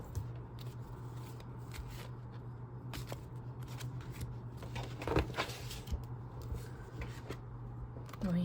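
Tarot cards being shuffled close by, a soft continuous papery riffle and rubbing with scattered sharper flicks, under a faint steady hum and without speech.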